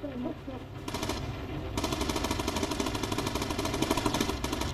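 Bomber gunner's machine gun firing in the Bomber Crew game, a long rapid rattling burst of evenly spaced shots over a droning aircraft engine, loud and sustained with talk at the start.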